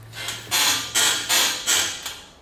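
The body of a Toyota FJ Cruiser squeaks and creaks in four or five loud, close, rhythmic strains, each one swelling and fading, with no talk.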